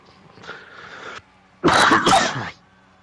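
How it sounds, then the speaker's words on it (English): A person with a persistent cough lets out two harsh bursts: a shorter, softer one, then a louder, longer fit after a brief pause. "I've got a persistent cough today"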